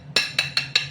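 Five sharp, bright clinks of hard sohan halwa pieces knocking together, evenly spaced at a steady rhythm, close and fairly loud with no talking.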